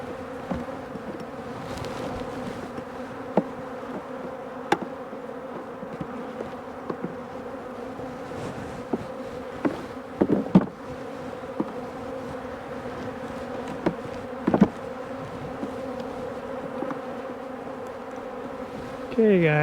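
Honey bees hum steadily at an open hive during feeding, a dense, continuous drone with individual bees zipping past close by now and then.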